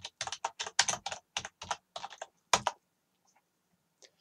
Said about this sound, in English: type in Terry Smith